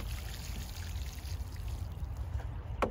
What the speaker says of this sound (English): A little bit of water to settle the soil.